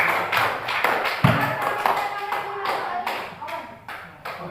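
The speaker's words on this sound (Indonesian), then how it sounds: "Berikan aplaus." A classroom group applauds together, steady scattered clapping from many hands that carries on for several seconds at moderate loudness, with faint voices mixed in.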